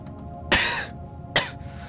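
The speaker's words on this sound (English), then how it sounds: "just had a coughing spasm" Two harsh coughs, close and loud, spaced about a second apart against a quiet background.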